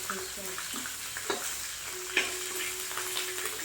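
Chicken pieces for chili chicken fry in a pan with a continuous soft sizzle, punctuated by occasional stirring clinks and scrapes at close range.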